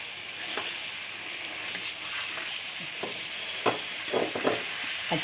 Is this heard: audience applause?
no